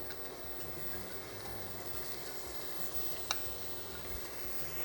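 Butter sautés with finely chopped onion and pimento in a pan for a Trinidadian cassava pie, a steady, soft sizzle running throughout with one brief clink partway through.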